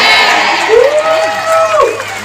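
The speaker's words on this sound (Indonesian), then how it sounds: "Yang tepuk tangan cuma ibu-ibu" Congregation at an Indonesian revival service breaking into applause and cheering, a loud crowd with shouts and whoops and a voice rising over the clapping.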